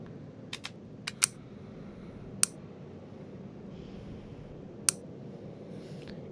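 Sparse clicks on a computer keyboard, a handful of sharp, isolated taps spaced irregularly over a quiet room hum, faint and close, with no talking.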